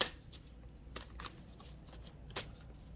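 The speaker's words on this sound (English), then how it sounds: "as I talk through shuffling my cards" Tarot cards being shuffled close by, giving quiet papery riffles and a few crisp snaps spread unevenly over a few seconds.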